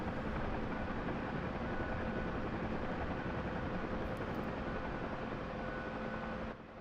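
Huey helicopter in the DCS flight simulator shaking as it drops vertically, a steady loud broadband roar of rotor and engine filling the cockpit, unbroken throughout before easing slightly at the very end, no talk.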